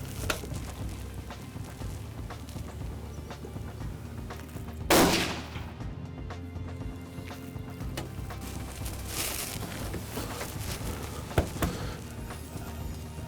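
A single loud rifle shot at a deer during a hunt cracks out sharply, followed by a faint echo and then quiet outdoor background with small rustles.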